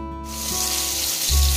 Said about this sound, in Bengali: এখন আর কয়েক সেকেন্ড এটা একটু ভাজা ভাজা হবে।